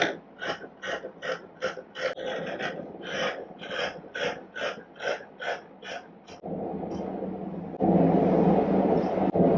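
Scissors cut through folded fabric for a three-quarter sleeve with a quick run of about a dozen rhythmic rasping snips, close and clear, then a steadier rustling of cloth.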